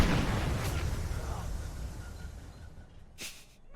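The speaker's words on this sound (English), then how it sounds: "I love the explosions from the steam tanks." Steam tank explosions in the video game Hyrule Conquest, a rumbling boom that decays over a few seconds, followed by a couple of sharp bursts near the end.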